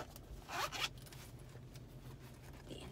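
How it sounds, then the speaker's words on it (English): A zipper on a thrifted designer purse is pulled open in one quick rasping stroke, close and faint, followed by quiet handling. "Card slots all over, zipper, two pockets, and a zipper on the back."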